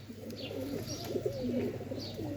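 Sialkoti roof pigeons coo softly and repeatedly, with warm, rolling calls overlapping and a few faint higher chirps, at close range against a low background hum.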